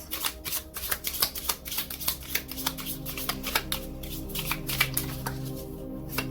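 A deck of oracle cards being shuffled close up, a rapid run of papery flicks and riffles in quick uneven bursts throughout, no talk.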